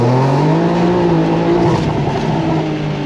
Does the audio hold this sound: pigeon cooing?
no